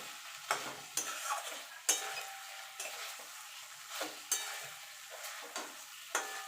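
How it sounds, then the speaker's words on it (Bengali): Fried paneer stirred gently through a frying pan for a vegetarian paneer curry, with a soft sizzle under repeated scraping strokes of the spoon that come in a loose, unhurried rhythm. "এবার পনিরটা ভেজে রেখেছিলাম সেটা দিয়ে দেব দিয়ে ভালো করে মিশিয়ে নেব আলগা হাতে মেশাতে হবে"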